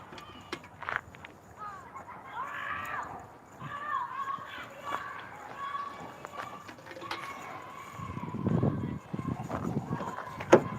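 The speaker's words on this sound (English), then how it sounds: "bunch of kids on the trampoline playing and having a good time" Children playing and chanting on a trampoline next door, distant overlapping kids' voices and shouts with bouncing and footsteps, heard under a nearby adult speaking.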